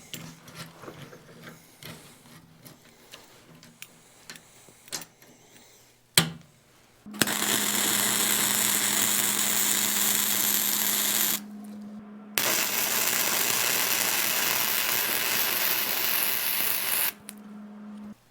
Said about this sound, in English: Move this clamp and we'll weld a couple more spots.